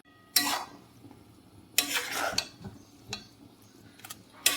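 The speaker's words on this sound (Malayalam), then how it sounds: "ഇത് ഇളക്കി കൊടുക്കുമ്പോൾ വല്ലാതെ ബലം പ്രയോഗിക്കരുത് പതുക്കെ പതുക്കെ വേണം ഇളക്കാൻ" A spoon stirs avial vegetables in a pot, giving a few separate scrapes and clinks against the metal with quiet gaps between them.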